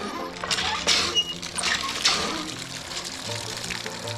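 Stream water pouring into a bottle while filling it on a backpacking trail, a steady splashing trickle with brief clinks, fairly close and alone.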